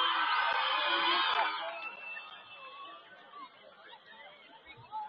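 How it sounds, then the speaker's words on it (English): A high school homecoming crowd cheering for the freshman class, loud massed shouts and whoops at first that fade into scattered chatter and calls. "Cheer for the freshman."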